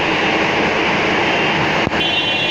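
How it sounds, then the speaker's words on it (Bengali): A Dhaka metro rail train gives a loud, steady rumble and rushing hiss that runs through the whole moment, broken by one short click near the end, with no voices. "এটা হলো মেট্রো রেল, দেখতে অনেক সুন্দর।"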